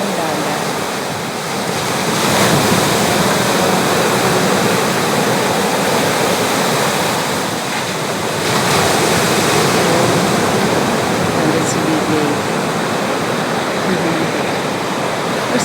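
High-tide sea waves surge against the shore in a loud, continuous rush that swells and eases gently over time, with some wind noise.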